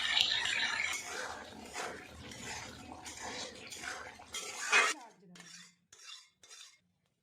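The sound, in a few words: stirring mushroom matar masala in a pan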